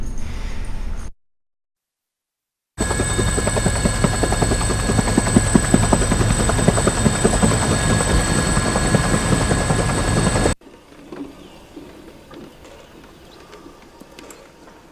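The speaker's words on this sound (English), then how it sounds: "The helicopter." A helicopter's rotor beats in a rapid steady chop with a whining engine tone, loud and close, cutting out abruptly and leaving a quieter rumble.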